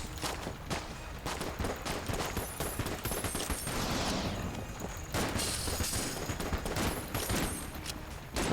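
Desert Eagle fire in Enter the Gungeon, many sharp shots in quick irregular bursts mixed with shattering impacts and game effects throughout, steady and close.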